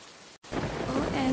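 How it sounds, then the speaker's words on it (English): Heavy rain in a video game pours down after a brief gap of silence, building into a dense, loud, unbroken roar. "OMG, that's heavy raining."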